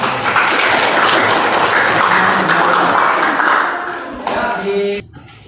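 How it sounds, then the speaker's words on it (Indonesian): Dense, loud applause from a classroom audience after a group presentation, sustained for about four seconds before thinning out and stopping abruptly. "Oke, kita beri aplaus dulu."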